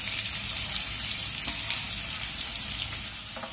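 Onions are frying with cumin seeds in a pan while a coconut dry prawn curry is made, giving a soft, even sizzle throughout with a few faint clicks and no speech.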